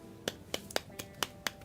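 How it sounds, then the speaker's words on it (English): A slow clap from a single person, with about seven sharp, evenly spaced claps at a deliberate pace and no voice over them. "Slow clap."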